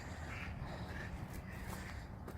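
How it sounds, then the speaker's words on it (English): Ducks quack agitatedly in the distance along a riverbank on a breezy outdoor nature walk, their calls faint over steady wind rumble. "Somebody ticked the ducks off."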